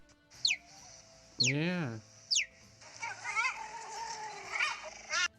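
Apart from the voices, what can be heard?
cheetah chirping like a bird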